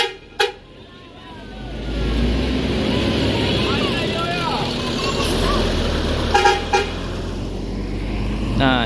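A departing intercity bus from Sumatra gives a couple of short horn toots amid a steady engine rumble and other brief honks nearby, with someone talking throughout.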